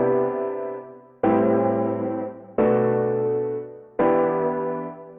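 Lo-fi piano chord pads from the HALion Sonic Lazy Cat preset, four sustained chords struck in turn, each ringing warm and full before decaying into the next, played alone without talk.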